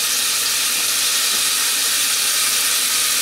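Crab cakes cooking in a hot pan give off a loud, steady hiss of sizzling oil that runs unbroken from start to finish, with no talk over it.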